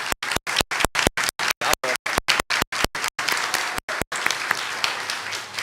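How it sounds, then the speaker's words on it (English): A crowd at a mathlete competition gives the competitors a round of applause, sustained clapping chopped by repeated dropouts into rapid on-off bursts before running continuously near the end. "we're going to start by just giving you a round of applause for getting here"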